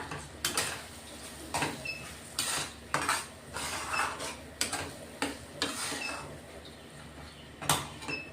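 Fresh peas and masala are stirred in a cooking pot for malai palak, with repeated metallic scrapes and clanks of a spoon against the pot, loud and close, in an irregular rhythm without speech.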